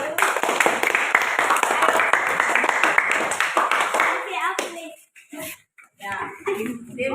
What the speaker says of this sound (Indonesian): Ya, kasih aplaus untuk kelompok